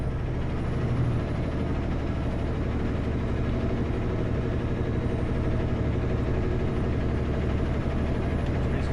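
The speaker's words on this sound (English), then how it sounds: "Alright, little Kubota. Cleaning up your driveway." Small Kubota tractor working to clear a snowy driveway, its diesel engine a steady low rumbling drone at moderate distance, continuous and even without pauses.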